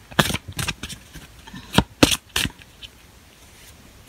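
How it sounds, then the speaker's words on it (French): Tarot cards are shuffled in several short, close riffling bursts with brief pauses between them before a major arcana card is drawn for a reading. "on va confirmer ou infirmer avec le tirage d'un arcane majeur"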